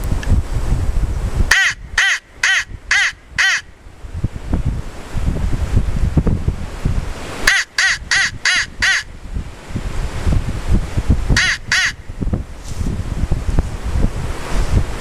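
A Lohman crow call is blown in three bursts of rapid, harsh caws imitating a crow alarm call, each burst holding about four or five notes, loud and close over gusty wind noise.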